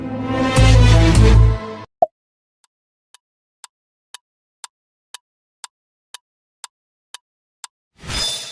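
BMW's car brand signature sound: a loud, rich, layered musical tone lasting under two seconds. A sharp click follows, then evenly spaced faint ticks, and a short swell of noise at the end.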